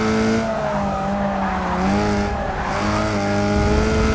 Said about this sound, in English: I can hear that Camaro back there.